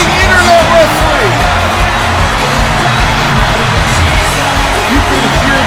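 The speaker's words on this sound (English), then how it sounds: "You can hear this crowd roar." A loud wrestling arena crowd roars and cheers steadily for an entrance, a dense wall of noise with scattered whoops and yells running throughout.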